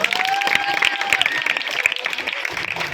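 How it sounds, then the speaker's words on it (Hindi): An audience at a parents' quiz competition at Bhim Pathshala, a school birthday celebration, claps steadily in a close, lively burst, with some voices and chatter mixed into the applause. "ताली बजा दीजिए जोरदार।"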